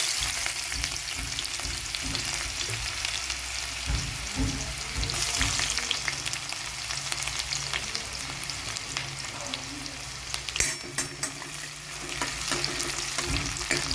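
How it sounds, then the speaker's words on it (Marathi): Onion sautéing in oil over a mustard seed tempering for a chickpea dish: a steady close sizzle with intermittent spatula scrapes and stirring knocks, no voices. "तेल घातलेलं आहे हिरी मोहरीची फोडणी दिलेली आहे कांदा घालू आपण परतण्यासाठी"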